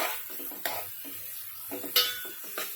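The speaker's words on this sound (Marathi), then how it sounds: "भाजीचं पॅन आहे इथे ठेवून घेऊया आणि आपण आता कांदा टाकूया" Onions for misal being stirred in a pan, with a spatula clinking and scraping against the metal in a few sharp knocks over a faint, quiet sizzle.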